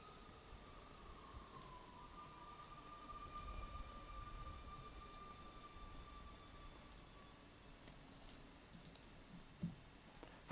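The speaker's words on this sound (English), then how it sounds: "Hey, look, the train is here." A video game train pulls into a station with a sustained metallic squeal and low rumble, quiet and mid-distance, ending in a few clicks and clunks; no talking.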